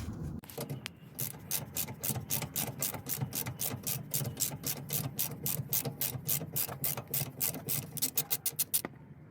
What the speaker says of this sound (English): It's number 10 socket to undo these rusty nuts.